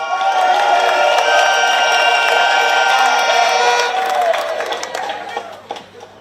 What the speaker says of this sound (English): Please give him a thunderous applause